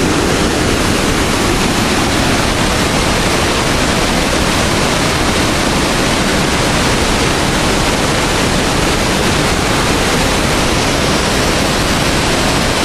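A heavy waterfall with a great volume of water pounds steadily, a loud, dense, unbroken roar that fills the whole stretch without pause.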